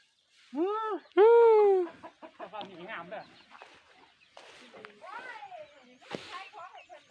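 Farm chickens cluck and a rooster-like call rings out loudly near the start, followed by scattered clucks and bird calls, with a voice talking at times.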